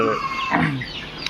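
A single close cluck from a Fayoumi farm chicken, short and clear, with a faint click at the end.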